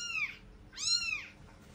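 Two short meows from a cat in a workshop store, the second longer and louder, with quiet room noise between them.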